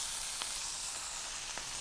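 Garlic sizzles in a hot pan while cooking caprese chicken and blistered green beans: a constant bright frying hiss with a couple of small, sharp pops, quiet and close, no voices.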